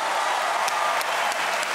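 Audience applause at a Turkish stand-up comedy show on a talent competition stage, a steady dense wash of clapping filling the whole stretch at an even level.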